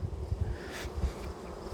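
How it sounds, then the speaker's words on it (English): A honey bee colony of tens of thousands of bees buzzing during a hive inspection, a dense, continuous close hum that stays loud throughout, with no voices. "this is a colony of tens of thousands of bees"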